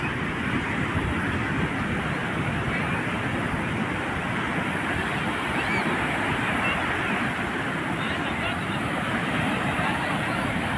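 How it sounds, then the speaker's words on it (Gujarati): Large ocean waves roll onto Somnath beach in a continuous, loud wash of surf, overlaid by the murmur of a crowd and distant voices along the shore. "મસ્ત મોટા મોટા મોજા આવી રહ્યા છે"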